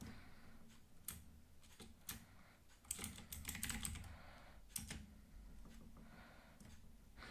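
Keys clatter on a computer keyboard as a file name is typed, bursts of close, crisp clicks with short pauses, one busier run in the middle, no talking.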